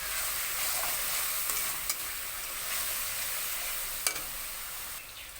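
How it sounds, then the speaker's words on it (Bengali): Egg curry being stirred in a hot pan after salt, turmeric and a little sugar go in: a soft continuous sizzle with occasional spoon taps against the pan, close and quiet, no talking. "এবার ভালো করে নাড়াচাড়া করব।"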